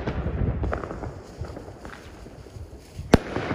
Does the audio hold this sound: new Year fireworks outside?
yes